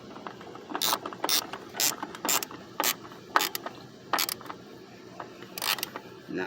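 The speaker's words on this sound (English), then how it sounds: "then now you bolt it down" Ratchet clicking as the ignition coil bolts are tightened on a 2007 PT Cruiser, sharp, close clicks in short irregular bursts over a quiet background.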